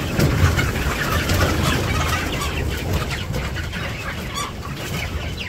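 A flock of village chickens clucks steadily close by in a house or coop area, overlapping calls forming a dense continuous chatter with no talking.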